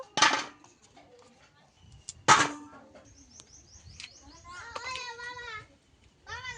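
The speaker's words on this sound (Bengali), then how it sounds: "এবার আমগুলোকে আমি ছোট ছোট করে কেটে নেব।" Two sharp knife chops land on raw mangoes being cut into small pieces, spaced about two seconds apart, while birds chirp and twitter in the background between the strikes.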